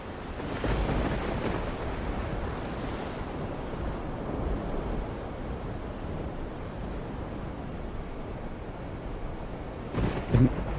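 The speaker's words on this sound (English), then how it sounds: "there was an actual lightning strike in the sound" A storm-at-sea ambience from a tabletop fantasy game carries a continuous roar of waves and wind, with a low rumble of thunder from a lightning strike swelling near the end.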